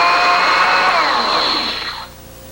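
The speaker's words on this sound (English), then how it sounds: "So you can just add some plain boiled water to the blender, cover it again, and blend." A blender whirs loudly as it purees baby food with plain boiled water, a high steady motor whine that drifts slightly in pitch, then stops abruptly after about two seconds and leaves a faint hum.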